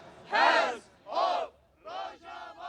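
A crowd of about sixty at a rally in front of the Christmas tree by Nashville's downtown courthouse shouts chants together in four loud, rhythmic bursts with short pauses between them.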